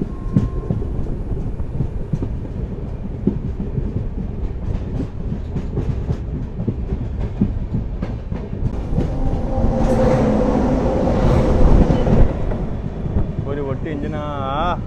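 A lone locomotive rolls past at Davanagere railway station, a close, loud rumble with rhythmic clicking of wheels over rail joints and wind buffeting, building toward a louder, brighter roar before easing off; a voice is heard briefly.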